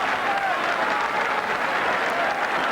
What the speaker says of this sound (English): and the crowd are cheering